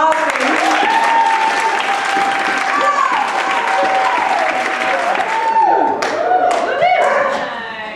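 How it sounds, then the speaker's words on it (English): A gala crowd applauds a woman who makes objects, likely hula hoops, with loud, lively clapping mixed with cheers and whoops that rise and fall before easing off near the end. "So do we have some applause for her?"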